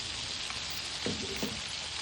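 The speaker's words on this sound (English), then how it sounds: "while these are frying" Steady, dense sizzling of chicken frying in hot oil, close and continuous, with a couple of faint clinks partway through.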